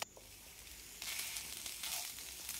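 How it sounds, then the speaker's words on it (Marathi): Shredded fresh coconut sautéed in ghee in a pan gives a steady, soft sizzle that grows a little louder after the first second, with faint stirring and no talk. "पॅन मध्ये तूप टाकून खोबरं थोडं परतून घेत आहे"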